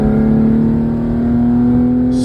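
A car engine, heard in a driving video, holds a steady, loud, close rumble with a constant droning tone for a couple of seconds, with a faint hiss at the very end.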